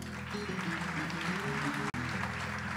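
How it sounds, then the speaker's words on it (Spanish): Audience applause fills a veterans' ceremony where commemorative coins honour veterans and the fallen. Steady, dense clapping runs throughout over a faint tonal background, with one abrupt brief dropout near the end. "renovamos el aplauso."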